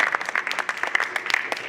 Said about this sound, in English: Huge round of applause for these guys.